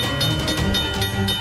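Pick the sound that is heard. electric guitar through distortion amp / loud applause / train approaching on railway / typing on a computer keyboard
train approaching on railway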